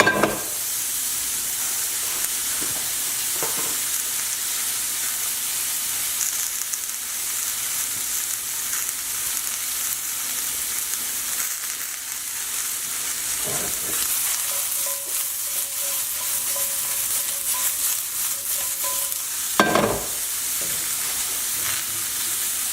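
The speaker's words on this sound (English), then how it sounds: "I'll shake it a little bit, toss it, mix it." Pan-seared chicken scaloppine sizzles loudly and continuously in a hot pan, a dense steady hiss with occasional clanks and scrapes as the pan is shaken and the meat tossed.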